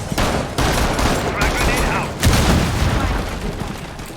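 Gunfire in the tactical shooter Rainbow Six Siege, loud rapid bursts and booming shots in dense clusters, with a player's voice talking over the fighting.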